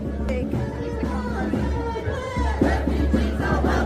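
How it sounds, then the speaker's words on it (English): A crowd of hundreds gathered outside a hotel, a dense continuous murmur of many voices with scattered shouts and cheers, loud and close throughout. "there is hundreds of people here welcoming and making the refugees in that hotel feel that they're welcome"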